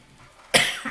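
A woman gives one sharp, close cough that tails off into a brief breathy rasp, loud against a quiet room.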